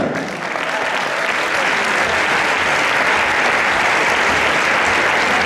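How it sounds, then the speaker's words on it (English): A large pageant audience applauds for the Best National Costume award at Miss Intercontinental 2015, a dense, steady roar of many hands that holds loud and even throughout with no break. "this is your applause"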